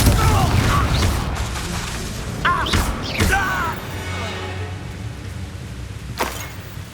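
Fire spell explosions in the Hogwarts Legacy video game: booming blasts with crackling debris and whooshing effects, loud and close, fading into a low rumble, with brief voice-like game sounds mixed in.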